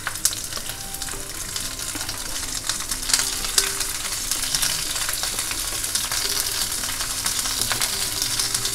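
Stuffed okra pan-fries over a low gas flame, giving a steady crackling sizzle with scattered pops and occasional light scrapes, close and continuous, no voices.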